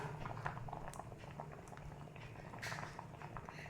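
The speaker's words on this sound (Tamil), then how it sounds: "இப்போது இதில் நல்லா இந்த வெல்லமும் கொதிச்சிருச்சு." Jaggery syrup boils in a pan, a steady soft bubbling and popping that stays close and quiet, with no voices.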